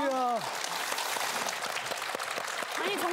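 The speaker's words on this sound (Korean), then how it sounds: "박수로 맞아주십시오." A Korean TV studio audience on the KBS show Golden Pond claps to welcome an elderly couple. The steady applause is broken by brief voices at the start and end.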